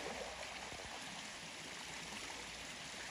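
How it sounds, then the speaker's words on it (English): Water gushes out into a dry hillside stream, a steady broadband rush that stays even and continuous throughout, fairly close with no voices over it. "Look at the water just gushing out right there."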